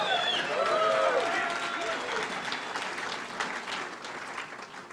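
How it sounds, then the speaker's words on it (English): Audience applause at a college athletics press conference, a dense, steady patter of many hands filling the room, with a few voices and whoops rising over the clapping early on. "clap it up for him"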